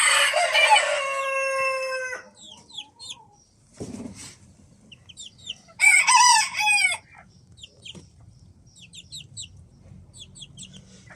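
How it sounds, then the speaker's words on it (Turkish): Chickens in a backyard coop with breeds including Silver Sebright, Ispenç, Ameraucana and Australorp: a loud rooster crow opens, followed by scattered clucking, a brief wing flap, then a second burst of crowing and squawks before quieter clucks. "Tavuklar çünkü oralarda yatıyorlar. Oraya pisliyorlar."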